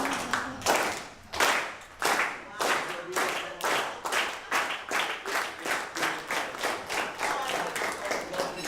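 An audience at a recognition ceremony for UT certificate recipients slow claps in unison, loud, spaced claps that start slow and steadily quicken into a faster, even beat.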